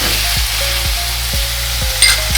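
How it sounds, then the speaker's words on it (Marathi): Chopped tomatoes frying with browned onions for an aubergine curry, a loud close sizzle with a spoon scraping the pan in a steady rhythm of about two strokes per second. "तर आता आपण टोमॅटो घालूया मिक्स करून घेऊया"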